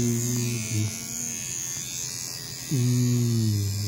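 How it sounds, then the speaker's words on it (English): An electric toothbrush brushes a girl's tongue with a steady, close motor buzz that drops away briefly in the middle and then returns strongly. "Brushing her tongue with Sammy's toothbrush"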